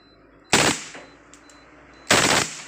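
A Taurus PT92 KWC airgun fires two sharp, loud bursts in automatic mode about one and a half seconds apart, with quiet room noise between them.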